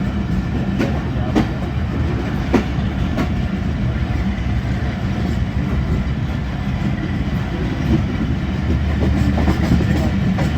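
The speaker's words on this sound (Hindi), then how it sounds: "आज देख लीजिए 101 भी स्लो पास" The 101 Up railcar rolls slowly along the rails on the Lahore to Rawalpindi line, a steady loud rumble with periodic wheel clacks and rattling carriage noise throughout, no voices.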